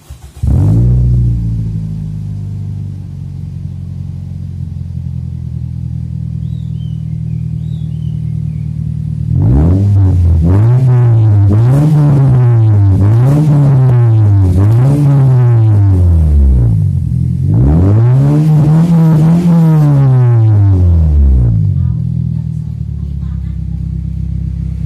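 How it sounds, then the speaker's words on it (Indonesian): A motorcycle fitted with an aftermarket NDK exhaust idles, then is revved hard in a string of rhythmic blips followed by one long, loud rev, close to the microphone. "untuk suara knalpotnya tadi udah saya geber sedikit di bengkel knalpot"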